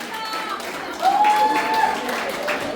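Crowd at a dance party applauds, with scattered clapping running under a host's voice and brief cheering.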